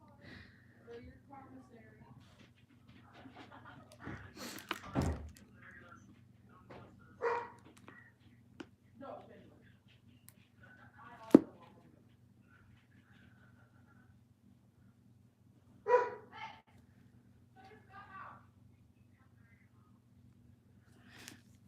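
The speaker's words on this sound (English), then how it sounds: "ever since we got the new dog, he has been non-stop barking" A dog barks in scattered bursts at irregular intervals, some sharp and loud, others softer, over a steady low hum.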